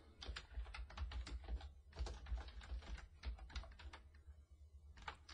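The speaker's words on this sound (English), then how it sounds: "Let's type these in." Rapid clicking keystrokes on a computer keyboard while entries go into a spreadsheet, quick irregular bursts of taps with a couple of short pauses, close and fairly quiet.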